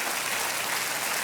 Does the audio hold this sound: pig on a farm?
no